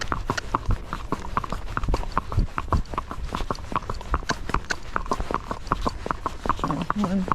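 Hooves of a young gaited horse at a fox trot, a quick even four-beat clip-clop repeating steadily and close, with a rider's voice talking over the hoofbeats.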